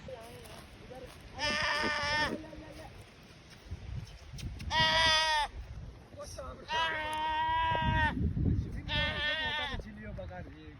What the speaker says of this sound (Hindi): यार यहाँ पे बकरी है, पागलों की तरह दौड़ रहा भाई इधर उधर